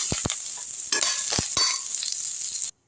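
Mustard seeds and a sprig of curry leaves crackle and sizzle in hot oil for a chutney tempering, a steady loud frying hiss broken by sharp popping bursts, then cut off abruptly.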